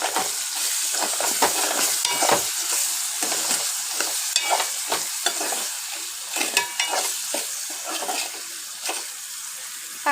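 Bitter gourd curry with turmeric is stirred in a pan, giving frequent short scrapes and clatters over a soft, continuous sizzle that runs throughout.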